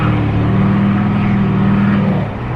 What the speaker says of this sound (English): that small turbo under the hood spools extremely fast